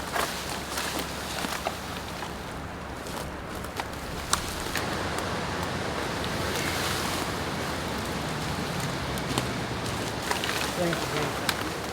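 Strong wind roars steadily in a broad, rushing wash, with occasional gusts and faint knocks in the background.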